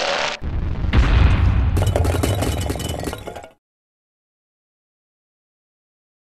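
A loud, booming shotgun blast from the fighting game Mortal Kombat Project, a heavy impact with clattering, metallic debris lasting about three seconds before cutting to silence.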